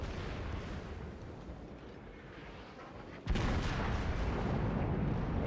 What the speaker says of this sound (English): Secondaries start lighting off at him.